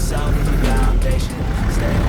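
Many vehicles roll together in a convoy heading to help rebuild Wayanad, making a loud, continuous close-up rumble of engines and road noise with no break.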